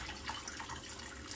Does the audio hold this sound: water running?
yes